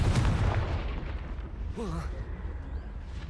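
A Confringo fire spell blasts in the game Hogwarts Legacy: a loud, broad burst under dense game noise, followed by a brief swooping tonal whoosh near the middle, with rumbling effects throughout.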